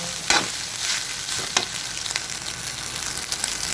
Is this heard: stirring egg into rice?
yes